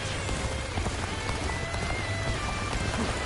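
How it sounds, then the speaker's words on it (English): A dense hissing volley of arrows rains down in the video game Dynasty Warriors Origins, a steady broadband patter like heavy rain filling the whole stretch with no voices. "Rain arrows upon them!"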